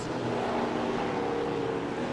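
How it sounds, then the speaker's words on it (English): NASCAR race car sliding through Paddock Hill Bend at Brands Hatch during qualifying for the 2021 UK Grand Prix, a steady broad engine roar that holds loud and continuous without a break. "Now Tobias Downhauer sliding the car around through Paddock Hill Bend"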